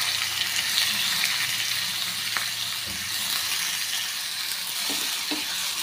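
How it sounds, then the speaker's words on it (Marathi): Chopped onion and green chili sauté in oil in a pan on low heat, giving a steady close sizzle throughout with a few soft stirring knocks, and no talking. "कांदा आपण छानपैकी गुलाबी रंग येईपर्यंत परतून घेऊया"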